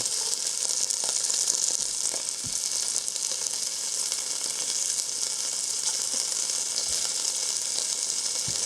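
Beef sizzles loudly in a hot pan, a dense continuous frying hiss with occasional soft clicks of stirring, close and without talk.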